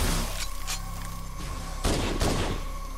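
Weapon fire in Halo: Combat Evolved, a few loud bursts of shots with a steady hum and game ambience beneath, the strongest blasts coming late in the stretch.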